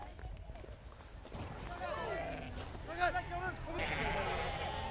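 Sheep bleat repeatedly while being herded down from mountain summer grazing and sorted into small pens on a busy gathering day, with several overlapping calls, a shuffling flock and people talking throughout.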